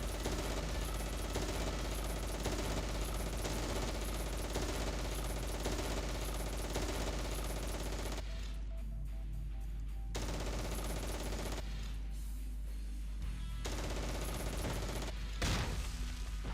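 Sustained automatic gunfire and bursts from a World War II Stalingrad battle in the strategy game Close Combat Cross of Iron, loud and continuous with brief lulls and occasional heavier booms.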